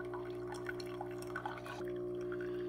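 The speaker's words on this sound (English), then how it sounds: "That, pump, that pump does get sort of loud in the middle of it." An Aldi Ambiano CM-202 single-serve K-Cup coffee maker pumps and brews, giving a steady close hum with trickling, dripping water over it. The level is moderate and even, with no one talking.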